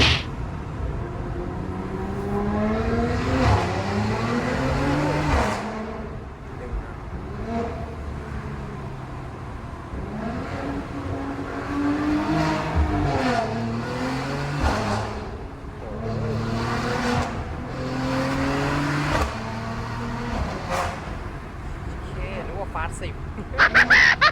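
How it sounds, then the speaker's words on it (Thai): Inside the cabin of a Mercedes C43 AMG fitted with a titanium exhaust, the engine note climbs and drops in repeated surges as the car accelerates through gears, loud and continuous for the whole stretch. "เดี๋ยวจะพาไปชมกันว่าอัตราเร่งจะขนาดไหนฮะ แล้วก็ เสียงในห้องโดยสารจะเป็นประมาณไหนนะครับ"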